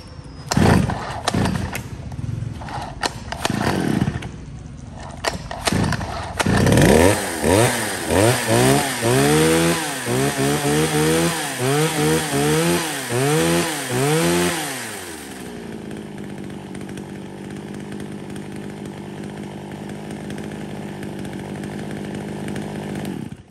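A Japanese used vertical-cylinder chainsaw, sized for cutting wood about 25 to 30 cm across, is started and revved in repeated loud rising-and-falling bursts, then drops back to a steady idle close by, with no talk over it.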